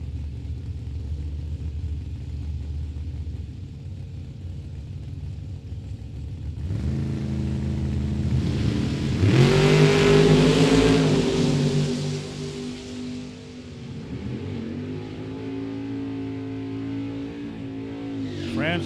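Drag racing cars at Mid Michigan Motorplex idling loudly, then revving hard as one car launches with a roaring engine sweep, another climbing rev following, with a public-address announcer heard under the noise.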